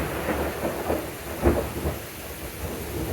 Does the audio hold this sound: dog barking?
no